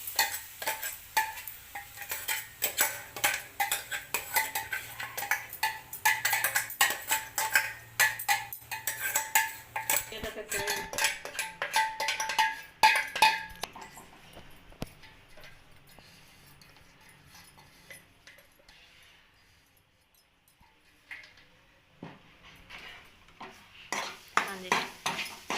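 Grated coconut being stirred into packaged ghee in a pan for coconut laddu, with dense scraping and clinking of a spoon against the pan for about fifteen seconds, then quieter intermittent stirring and a few taps.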